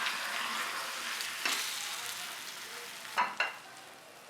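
A Spanish omelette made without cheese sizzles softly and evenly in a frying pan, with a couple of brief louder bursts and scrapes as it settles.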